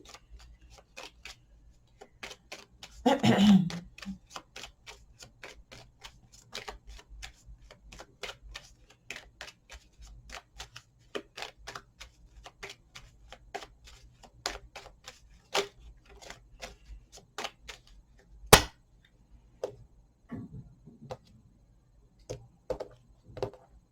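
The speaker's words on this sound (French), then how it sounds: "on va continuer avec des cartes que l'on va déposer dessus" Tarot-style cards being shuffled and laid down on a table during a card reading, a long run of soft snapping taps and flicks, close and quiet, with one louder rustling burst early and a sharp slap later.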